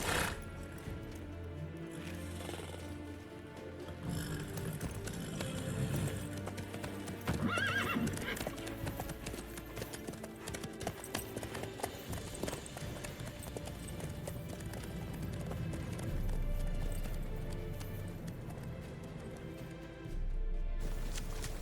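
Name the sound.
horse hooves and neighing in the video game The Witcher 3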